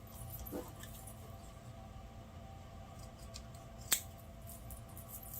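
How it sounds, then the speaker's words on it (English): Scissors cut once through denim jeans fabric being trimmed to size at home, a single short close snip standing out from a quiet room background. "And I'm going to cut it off."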